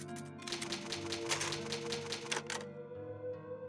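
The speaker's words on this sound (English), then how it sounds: "Such a nostalgic sound. It's an old typewriter." An old typewriter in the Resident Evil video game clatters in a rapid burst of key strikes for about two and a half seconds, then stops, leaving a faint hum.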